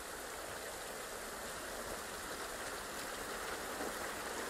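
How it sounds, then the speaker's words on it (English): Rain falling outdoors in the video game The Last of Us: a dense, continuous hiss of steady rainfall, even and unbroken throughout, with no voices. "This rain ain't gonna do us any good."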